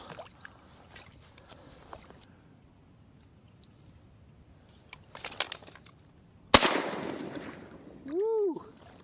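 A single sharp, loud gunshot rings out while hunting on public land in early season. It follows a stretch of quiet rustling and scattered clicks and leaves a trailing echo, with a brief tonal call just after.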